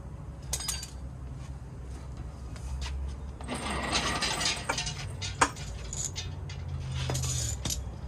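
An outboard motor on an Aquasport Osprey 175 with seized steering being tilted back by hand, producing a close ratcheting clatter of metal mechanism, scattered clicks and one sharp knock over a low hum.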